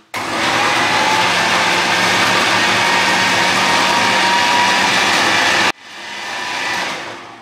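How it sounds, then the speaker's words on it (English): A food processor whirs loudly as it blends bananas into ice cream, a harsh steady motor roar for about five seconds, then cuts off and briefly spins up again more softly. "Now, into the food processor. And we're going to turn this on and we're going to whiz it until it becomes nice and creamy."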